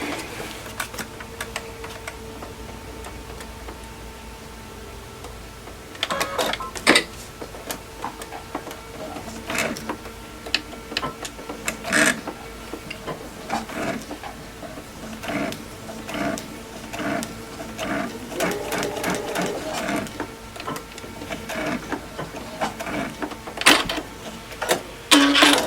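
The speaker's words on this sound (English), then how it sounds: "So let's just sew that line." A sewing machine stitches a quilt seam on a curved cabin block, with bursts of mechanical whirring and clicking that start and stop across the span, close by and moderate in level.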